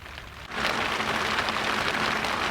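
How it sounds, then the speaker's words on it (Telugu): Heavy rain hammers down on a boat in the middle of the Godavari river at night, swelling abruptly into a loud, dense, continuous roar after a quieter start. "పెద్ద కురిసేస్తుంది వర్షం బయట అయితే."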